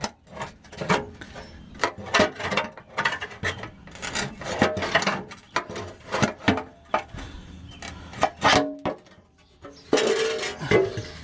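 Oil pan being worked loose from a 383 big-block engine in a 1979 Dodge Magnum, repeated metallic scrapes, clinks and rattles in irregular bursts, close and fairly loud with no talk.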